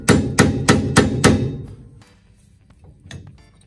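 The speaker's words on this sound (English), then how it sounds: "Now I can take this grease cap off." Grease cap being knocked off the wheel hub of a 1967 Jeep CJ5, five loud, evenly spaced metallic hammer strikes up close, then quieter handling clatter.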